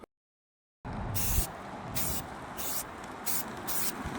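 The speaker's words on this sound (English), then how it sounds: "It's best to spray several thin coats rather than one heavy coat, shaking the can well between each pass to ensure even coverage." Rust-Oleum gray fast-drying primer sprayed from an aerosol can: five short hissing bursts of about half a second each, close and loud, separated by brief pauses.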